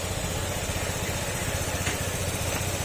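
A Honda PCX160 scooter engine idles close by with a steady, even low thrum for about three seconds, alone with no talk over it.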